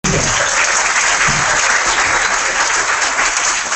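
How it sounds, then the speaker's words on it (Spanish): An audience at a World Asthma Day event applauds its panel of speakers, a steady, loud wash of many hands clapping throughout with no voices on top. "Un aplauso para nuestro grupo de panelistas"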